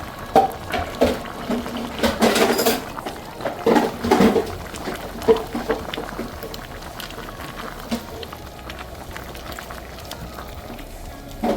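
Palm oil poured into a pot of bitterleaf soup, giving a loose run of liquid splashing and bubbling that is busiest at the start, then settles into a quieter simmer.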